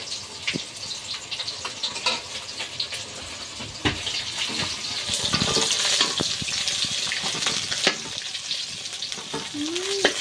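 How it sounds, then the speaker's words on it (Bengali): Large pieces of rupchanda fish fry in hot oil with a continuous crackling sizzle. Occasional scrapes and taps of a utensil sound nearby as the pieces are turned. No one speaks. "বাদ বাকি মাছগুলো এইভাবে ভেজে নেবো এক এক করে"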